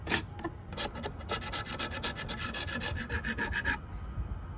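Tape peeled off a salvaged Mayline portable drafting table, a rough ripping, rasping sound that comes in quick tearing pulls, fairly faint and close, with no voice.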